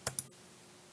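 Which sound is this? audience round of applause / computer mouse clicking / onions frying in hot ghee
computer mouse clicking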